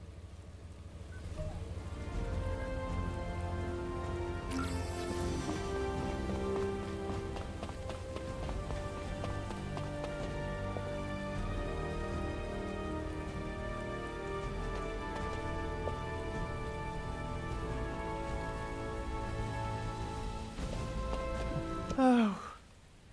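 Rain falls in the video game The First Descendant as a soft, steady patter under sustained musical tones, continuing for about twenty seconds before a brief swell near the end.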